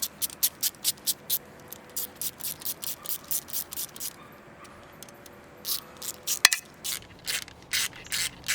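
A socket ratchet tightens the injector hold-downs on an LB7 Duramax diesel engine, giving rapid, close, crisp clicking bursts. A run of even strokes is followed by a short pause, a single knock, and then another quick series of clicks.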